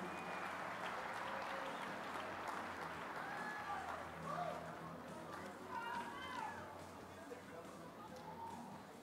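A crowd at a strongman finals event applauds in a sustained wash of clapping and cheering, with an announcer's voice and scattered shouts over it.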